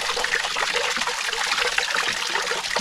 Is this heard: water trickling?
yes